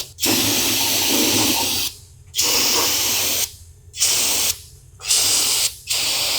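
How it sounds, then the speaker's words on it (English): Repeated loud bursts of aerosol brake cleaner sprayed onto an oil pan, five in a row, each a steady hiss lasting about a second, separated by short pauses. "just using some brake clean, any kind of parts cleaner,"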